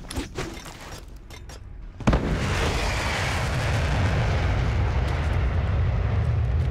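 Airstrike explosions in the video game Dirty Bomb: a sharp, loud blast erupts and then swells into a continuous, heavy rumbling roar of detonations that fills the rest of the scene, after a quieter stretch of scattered background noise.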